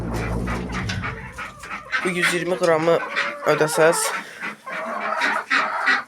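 Hens in a farm coop in winter cluck and chatter nearby, close and fairly loud, as someone talks over them throughout.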